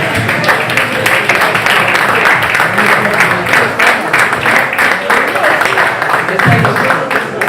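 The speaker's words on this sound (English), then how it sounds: "give the for and against frontliners for their passionate and stunning performances a final clap" A debate audience breaks into sustained clapping for the speakers on both sides, loud and close, with many hands blending into a continuous, slightly uneven roar and a few cheers or voices mixed in.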